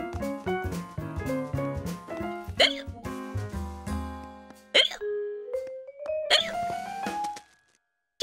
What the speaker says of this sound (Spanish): Llevo con este hipo